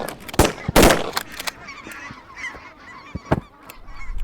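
Geese honk loudly and repeatedly at close range during a goose hunt, with calls from specks, Ross and Canada geese, in a few sharp bursts mixed with fainter honks from farther off.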